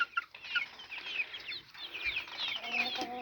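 Many small chicks cheep and cluck softly together in a busy, continuous chorus, close by, with occasional scratching and shuffling.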